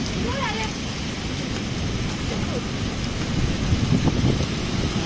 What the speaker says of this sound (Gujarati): ઓહો વાવાઝોડું વાવાઝોડું